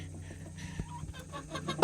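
Backyard chickens cluck in short, scattered calls with a low steady hum underneath, and no one speaks.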